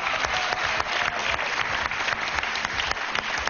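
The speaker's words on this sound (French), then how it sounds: "Il mérite vos encouragements, vos applaudissements." A French TV game show studio audience claps steadily together for a pianist, with dense, even applause filling the whole stretch.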